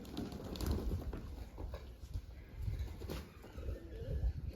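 Pigeons being given a water bath, with a steady low rustle and repeated bursts of wing flapping close by, no talk.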